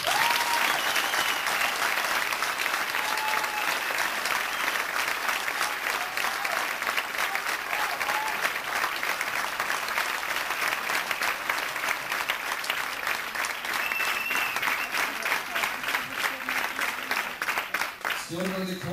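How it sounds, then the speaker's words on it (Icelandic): A theatre audience gives show performers, including choir, dancers and stage crew, a long, steady round of applause that rolls on loudly for about eighteen seconds before tapering off, with some voices mixed in. "ég legg til að þið gefa þeim gott klapp."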